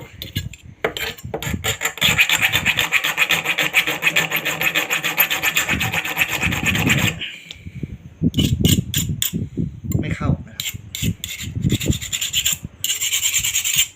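A metal file rasps repeatedly across a hardened, heat-treated knife blade, sliding without biting, steady strokes for several seconds, then shorter bursts of scraping with brief pauses between them.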